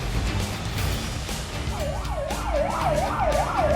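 A fire truck's wailing siren rises and falls in repeated sweeps over heavy road and engine noise during an emergency run through traffic, growing clearer toward the end.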